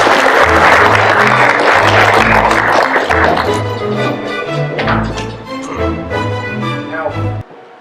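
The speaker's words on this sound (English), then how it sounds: "Give him a round of applause." Audience at an autism talk applauding the speaker, loud close clapping that gradually thins and fades before stopping abruptly, with music or tones beneath.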